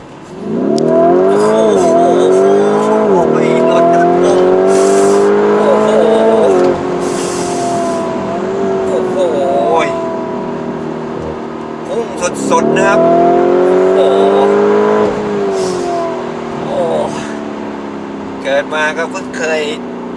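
A Lamborghini Urus SUV with a 4.0-litre twin-turbo V8 accelerates hard in sport mode, its engine note climbing loud and close through repeated upshifts, with someone talking over the roar.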